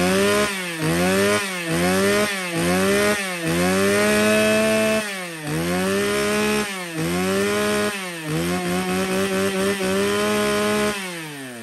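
A loud used Japanese-market chainsaw engine runs close by, its whining pitch repeatedly dipping and revving back up in a rough, cycling rhythm.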